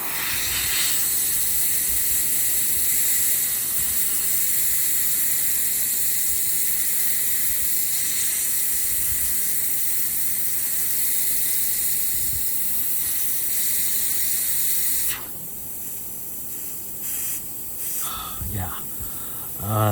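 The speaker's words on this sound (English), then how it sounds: "this is the constant battle with airbrushing" Steady airbrush hiss spraying paint onto a Storm Giant miniature, continuous and close for about fifteen seconds before cutting out, leaving quieter handling noises.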